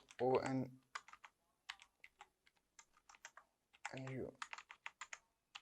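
Someone types on a computer keyboard while working in Canva: sharp close clicks come in quick irregular bursts, with brief speech near the start and again partway through.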